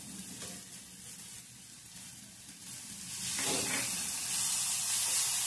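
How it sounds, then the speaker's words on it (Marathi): Spices for a pigeon bean curry sizzle in hot oil with a steady crackling hiss that grows louder midway, punctuated by faint stirring scrapes. "तेलात भाजून घेऊया चांगलं"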